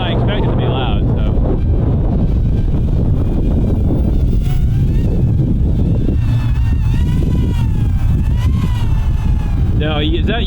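Outdoor wind gusts buffet the microphone in a steady roar while a small quadcopter drone flies overhead, its thin whine faintly rising and falling; a person talks throughout.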